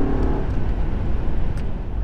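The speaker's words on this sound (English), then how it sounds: "dual exhaust that sounds really good" A Mercury Grand Marquis engine with dual exhaust rumbles loudly and steadily with deep low-end exhaust tone, building slightly as it accelerates, no voices present.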